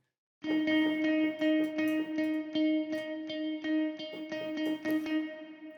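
A distorted synth, run through a Decapitator plugin, plays a repeating rhythmic pattern of gritty notes, washed in reverb and delay, loud and alone with no voices.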